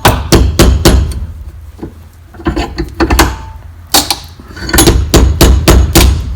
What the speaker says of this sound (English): if you use a hammer, it helps crack that shell pretty fast.